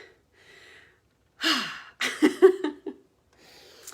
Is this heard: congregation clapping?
no